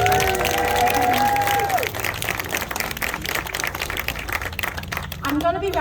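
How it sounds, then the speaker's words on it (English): Audience applauding for a patisserie team at a grand opening, a dense wash of clapping with some cheering that follows a voice over a microphone at the start. "please give a huge round of applause to our wonderful team of MARC HEU Patisserie"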